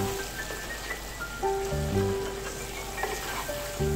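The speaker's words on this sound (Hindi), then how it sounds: "अच्छे से भुनाई करेंगे इसकी" Murgh chole curry with tomatoes sizzles steadily in a pan over a normal flame, a continuous close hiss and crackle with faint tonal hum in the background.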